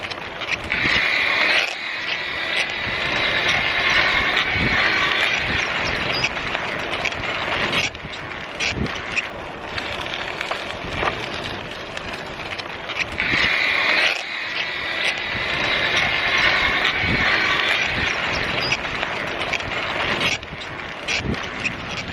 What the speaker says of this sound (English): I'll let you listen to the motor for a minute.